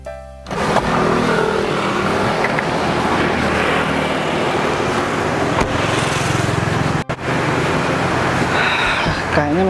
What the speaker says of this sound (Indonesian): Aku keluarin mobil dulu ya.